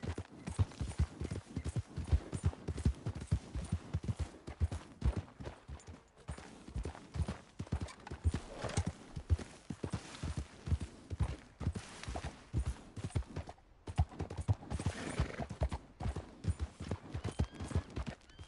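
A horse ridden at a steady pace in Red Dead Redemption 2 clip-clops in a brisk, even rhythm of hoofbeats, close and clear throughout.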